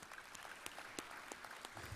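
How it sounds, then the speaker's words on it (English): Scattered, fairly quiet clapping from a conference audience applauding a panel, with individual claps standing out sharply against a thin background. "I'd really like to thank the panel and ask you to give them a huge round of applause"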